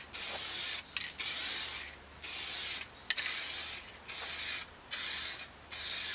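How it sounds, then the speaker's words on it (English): Broadband hissing bursts of a spray gun applying color coat to a Mazda NB Miata, about six long passes with short pauses between, close and steady. "then we're gonna go ahead and spray the color coat"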